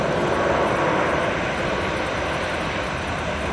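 An Airbus A350 jet takes off, its engines giving a loud, unbroken roar that holds steady throughout, with no voices.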